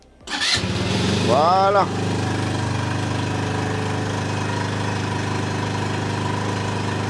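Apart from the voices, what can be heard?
engine starting and idling after jump start with TOPDON JS1200 booster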